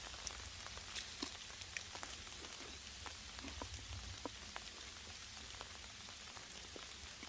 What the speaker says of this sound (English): Little afternoon thunder shower here at Fisherman's Camp. I guess I was lucky I put my tarp up.